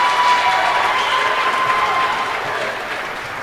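A basketball crowd at Winnebago Stadium claps and cheers in a steady, dense wash of applause on fan appreciation night, fading slightly toward the end.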